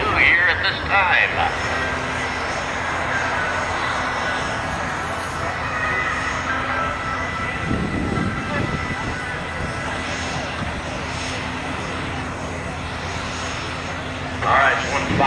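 A B-2 Spirit stealth bomber passes at an air show, its engine roar a broad sustained rumble with a swelling midsection, heard amid crowd noise and a nearby voice.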